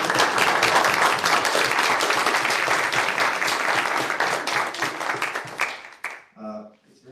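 A room of people at a university senate meeting breaks into sustained, dense applause for Frank Bartlett's resolution, fading out after about six seconds as a voice begins to speak.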